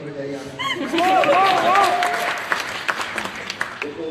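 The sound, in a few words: audience applause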